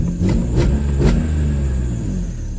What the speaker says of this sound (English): this engine sounds pretty healthy